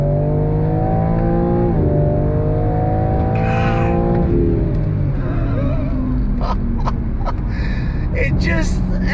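BMW M4 Competition (2022) accelerating hard out of a corner on a track, engine note climbing steadily through the revs with a gear change, loud and close from inside the car, with a voice talking over it.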